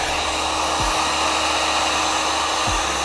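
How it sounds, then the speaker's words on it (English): Heat gun blowing a steady, loud stream of hot air onto heat shrink tubing during a camper ambient lighting install, with a continuous close whooshing roar throughout. "Grab our heat gun"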